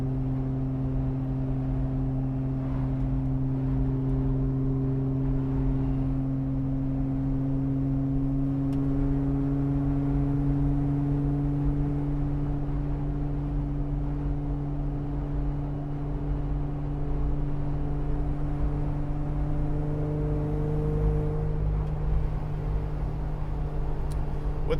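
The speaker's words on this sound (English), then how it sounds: "you're not really hitting boost on the supercharger until you really give it some throttle" Supercharged Jeep Wrangler JK Rubicon Hard Rock engine pulling under throttle, a steady, close, loud engine drone with rising harmonic tones that climb slowly as it accelerates, no talking.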